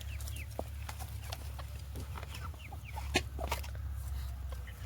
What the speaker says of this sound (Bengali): মা বসেছে মুরগির ঘরের সামনে, বড় মুরগি যেগুলো ছিল সেই ঘরটাতে